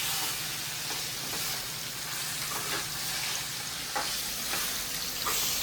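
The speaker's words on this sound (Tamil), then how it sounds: "அந்த வெங்காயம் தக்காளியோட சிக்கனை வதக்கி விட்டுடலாம்" Chicken sautéing with onion and tomato in a pan gives a dense, continuous sizzle with a few soft scrapes of a stirring spoon, close up and steady from start to finish.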